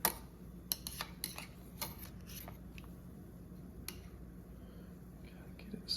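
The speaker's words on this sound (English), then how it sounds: "Give that one last little stir, kind of get it mixed" A spoon stirring ingredients in a crockpot gives a few light, scattered clinks and scrapes against the pot, quiet and close, with soft pauses between the strokes.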